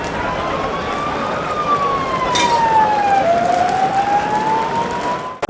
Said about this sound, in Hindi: पुलिस की गाड़ियां सायरन बजाते हुए चारों ओर घूमने लगी।